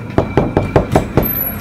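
Six evenly spaced knocks on a door at a clinic, sharp and close, in a quick steady rhythm.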